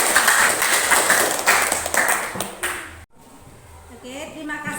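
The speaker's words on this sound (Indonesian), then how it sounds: "tepuk tangan untuk Kiran" Classroom applause for a student named Kiran, a few seconds of clapping that breaks off abruptly, followed by quieter room sound and a voice speaking.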